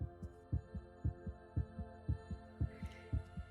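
A low, thudding heartbeat pulses in steady double beats over a soft hum, close and muffled, with no one speaking.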